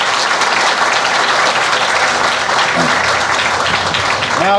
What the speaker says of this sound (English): Another round of applause for the supporting families.